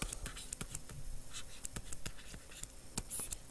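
Pen scratching on paper in short strokes and taps, quiet and close, with a soft irregular rhythm across a few seconds.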